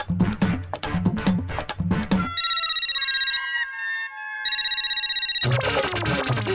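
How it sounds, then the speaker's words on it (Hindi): A phone rings in two long electronic bursts separated by a short pause, loud and close, with clattering music before and after. "भिड़े भाई फोन क्यों नहीं उठा रहे?"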